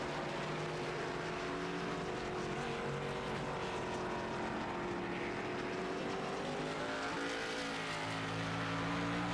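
Race cars in a NASCAR-style racing video game at the Charlotte Roval, a steady loud roar of several engines with shifting pitch and faint tire noise throughout, no voices.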